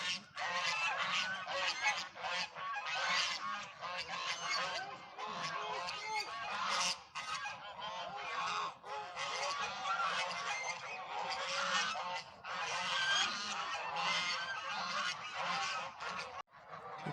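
A flock of geese honks constantly on a farm while grazing a clover patch, a dense overlapping chorus of loud, near calls that runs without a break and has no talk over it.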